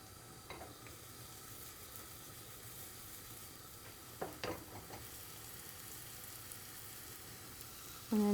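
Three thinly sliced shallots fry in hot oil for a Kerala fish curry, a soft, steady sizzle with a few sharp clinks and stirring scrapes, ending in a louder clatter.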